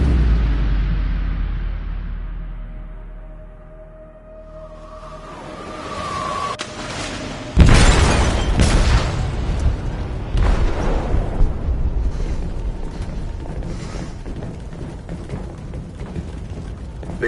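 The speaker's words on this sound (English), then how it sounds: "They detonated an explosive in the hold." An explosive detonates in a ship's hold in Detroit: Become Human, a heavy booming blast erupting after a quieter stretch and giving way to a long, loud rumbling roar of debris and churning noise.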